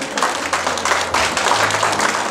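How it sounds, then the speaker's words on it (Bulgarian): A crowd at a DJ event applauds the host, steady dense clapping filling the short clip with a low hum or music underneath. "Васко, нашия домакин, аплодисменти за Васко."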